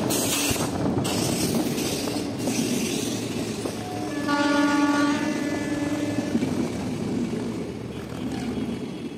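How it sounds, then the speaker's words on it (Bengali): A Sealdah Superfast Intercity Express train at Andal Junction sounds a loud, sustained horn for about two seconds midway, over a steady rumble of wheels and station bustle. "এখন দেখতেই পাচ্ছেন আমাদের ট্রেন এসে দাঁড়িয়েছে আমাদের যাত্রাপথের দ্বিতীয় হল্ট অন্ডাল জাংশনে"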